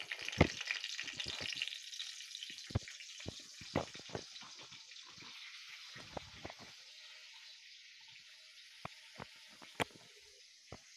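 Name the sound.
green chillies frying in hot oil in a pan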